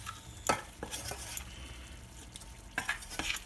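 A spoon stirs an aubergine gratin mixture in a pot, making intermittent soft scrapes and knocks against the sides with a faint sizzling undertone. The sound is close and quiet, with no voices.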